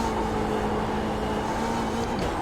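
A BMW M8 GTE race car in iRacing, its engine a steady loud drone holding a near-constant pitch through the whole short stretch, with no talk over it.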